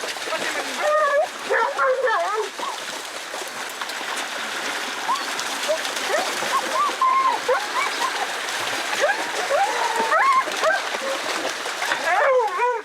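A pack of hare-hunting hounds bays and yelps in bursts across the countryside, a steady chorus of overlapping barks at middle distance with water splashing beneath.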